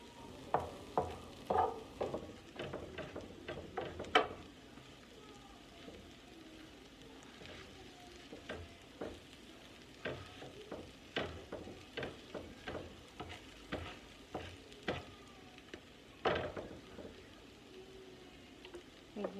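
Vegan chopped cheese frying on a hot surface while being chopped, a steady sizzle punctuated by repeated sharp spatula chops and scrapes at an irregular rhythm, close and clear.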